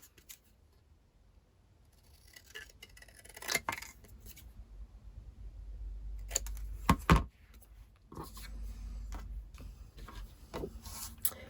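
Scissors cutting around a thin card mat, close snipping and rubbing strokes that come in irregular bursts, with louder crunchy cuts near the middle and quiet handling between them.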